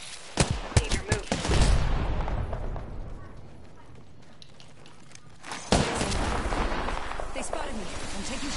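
Apex Legends gunfire: rapid bursts of shots crack loudly in the first two seconds, then a quieter lull, then another heavy volley of shots, with game voices mixed in.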